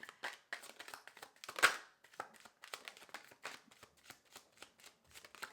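Close, quiet shuffling of tarot cards: repeated papery riffles and taps in an uneven rhythm, peaking with one sharper burst near the start.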